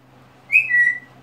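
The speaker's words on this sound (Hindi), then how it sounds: "कोई सीटी मत मारो," A pet parrot gives a single loud, clear whistle, a short rising note that slides into a steady held tone, alone against a quiet room.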